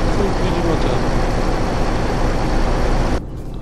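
Steady truck engine drone in Euro Truck Simulator 2, loud and continuous low rumble, cutting to a quieter level just before the end.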